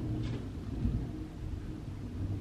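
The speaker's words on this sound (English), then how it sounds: "Wow, it's really thundering." Low, continuous thunder rumbles through a thunderstorm, a distant, steady roll with a slightly stronger swell partway through, and no voices.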